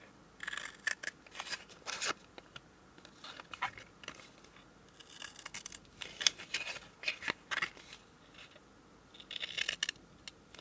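Scissors snip through the card of a used Christmas cracker, cutting about 2 centimetres up from a corner in a run of close, crisp cuts, some quick and bunched, with short pauses between them and no talk.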